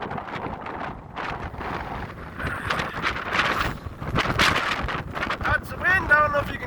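Cold wind blows hard outdoors beside icy, frozen winches, a steady roaring rush that buffets the microphone in uneven gusts while people talk over it.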